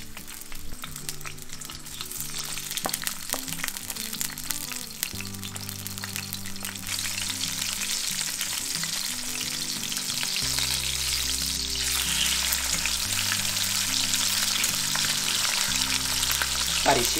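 Frozen mackerel fries skin-side down in hot oil for a pasta dish, giving a loud, steady, close sizzle that crackles continuously from start to finish with no voices.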